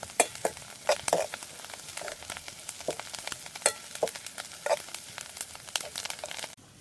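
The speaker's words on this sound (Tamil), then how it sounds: "எல்லாம் நல்லா பொரிஞ்சு வரட்டும் பொரிஞ்சு வந்தால் தான் நல்ல ஒரு வாசமாக இருக்கும்" Okra fries in a pan for a traditional stir-fry, crackling with sharp irregular pops and spits over a low sizzle, close and fairly loud, with no talking.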